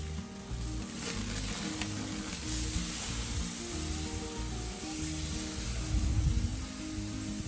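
Honey balsamic flank steak sizzling on an outdoor grill, a steady dense hiss with a fuller swell near the end, close and continuous without talk.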